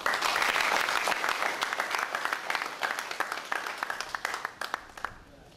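A round of applause at a two-day prison fellowship workshop in Nigeria, a full burst of crowd clapping that thins into scattered individual claps and fades out over about five seconds.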